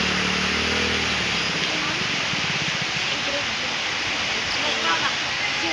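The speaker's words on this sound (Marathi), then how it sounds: "पूर आलेला आहे, भरपूर सारा पूर आलेला आहे." The swollen Pawana river in flood gives a loud, constant broadband rush of fast-flowing water, close by. A voice is briefly heard over it near the start.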